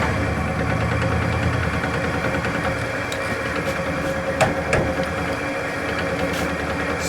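A wood lathe turns a flat-sided wooden vase at 600 RPM, giving a steady, close mechanical drone with a low rumble and a few faint scraping ticks.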